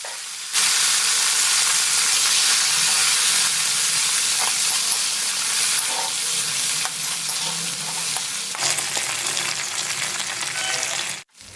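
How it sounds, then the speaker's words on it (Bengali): Pui (Malabar spinach) stems frying in hot oil with dried chilli, black cumin and cumin seeds, a loud continuous hissing sizzle that runs almost the whole time before cutting off abruptly at the end. "আমি দু মিনিটের জন্য পুঁইমেটুলিটা ভেজে নেবো"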